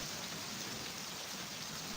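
Heavy, steady rain pours down in a dense, continuous hiss with no pauses, close and even in loudness throughout, and no voices are heard.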